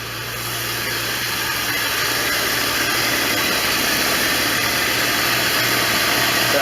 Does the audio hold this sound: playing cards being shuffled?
no